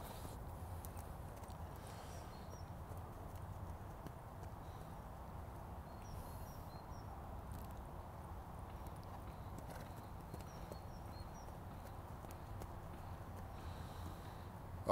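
A horse walks in an arena setting with soft, steady hoofbeats that are faint and somewhat distant, under a constant low background rumble with no voices.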